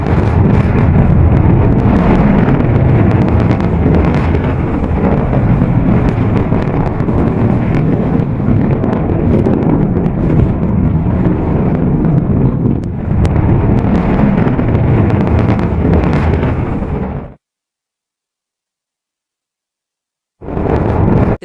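A Trident II submarine-launched ballistic missile test launch, heard as a sustained, loud broadband roar with wind-like rumble for about seventeen seconds before it cuts to silence and then briefly resumes.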